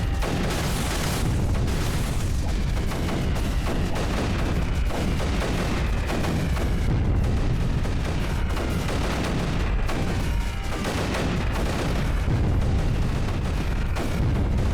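Super mortar fire and explosions in the video game Creeper World 3 roll on without a break, loud booms and bursts stacked over a constant rumbling barrage, with no talking.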